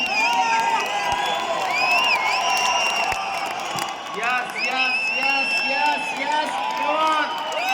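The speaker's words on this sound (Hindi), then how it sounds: "आपकी तालियां, आपकी सीटियां, आपका एक्साइटमेंट चाहिए।" A large crowd at a corporate anniversary event in Indira Gandhi Stadium, New Delhi, cheers loudly without pause, with shrill whistles rising and falling throughout.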